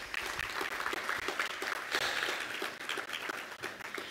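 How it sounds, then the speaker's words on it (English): An audience at a youth engagement event applauds the elected officials, a thick continuous wash of many hands clapping at moderate distance, sustained without a break for about four seconds. "Let's give them a round of applause."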